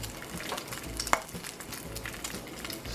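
Bacon frying in its rendered fat in a cast iron skillet on a burger cookout, heard as a soft, fairly quiet crackle with a single sharp metallic click near the middle.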